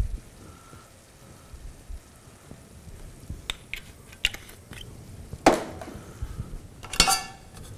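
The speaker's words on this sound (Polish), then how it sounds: "Wstawiamy drugą patelnię." A second frying pan set down on a home kitchen stove gives a few sharp metallic clanks and clatters, the loudest two standing out late among quieter kitchen rattles, with no talking.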